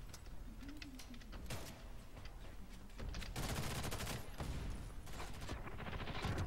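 Rapid gunshots and automatic bursts in the online shooter FirstAssault Online, quieter at first and then growing denser and louder in the second half.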